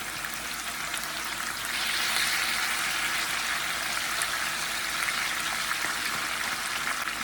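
Onions sizzling in a hot pan alongside potatoes, a steady bright crackling hiss that swells slightly after the first two seconds and holds evenly, close and alone.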